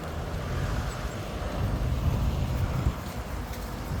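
Strong wind buffets the microphone in a continuous low roar, steady and close for several seconds.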